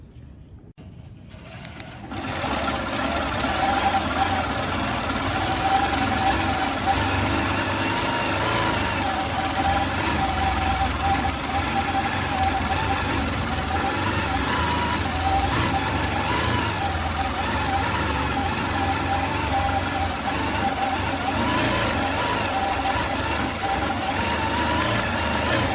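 Long-arm quilting machine stitching a row across an old antique quilt, a steady loud mechanical whir and hum that starts after a brief quiet lead-in and runs without pause.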